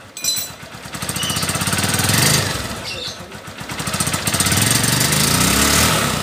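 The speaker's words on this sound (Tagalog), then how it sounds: "pag re-revolusyonan natin, Yun, parang nade-delay. Medyo palyado." Honda Supremo 150 motorcycle engine, stock for nearly a year, revved up close with a loud rapid chugging pulse that hesitates and stumbles as it misfires, swelling and dipping unevenly with no talking.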